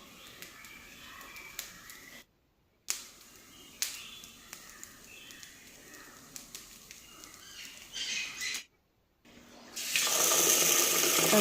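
Rice being washed in water at a village home, with soft sloshing, scattered clinks and splashes, short silent gaps, and a louder rush of pouring water near the end.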